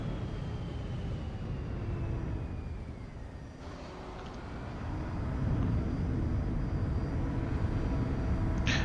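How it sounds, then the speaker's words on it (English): Embraer Phenom 300 business jet in Microsoft Flight Simulator 2024 at Atlanta airport, a steady low engine rumble and whine that swells louder in the second half, distant, with no talk. "flight radar is showing this as a little Embraer Phenom 300"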